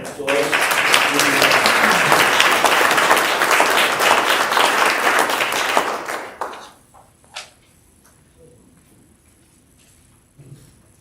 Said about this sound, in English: should give Jim a round of applause